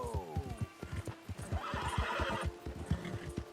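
A horse whinnies with a long, falling call, then gallops in quick, steady hoofbeats that stay loud and close; the horse is a seal brown Thoroughbred in the video game Red Dead Redemption.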